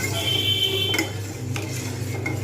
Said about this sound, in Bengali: এবার এটাকে নাড়ব যতক্ষণ পর্যন্ত না এটা ভালোভাবে সুজিটা ভালো করে সিদ্ধ হচ্ছে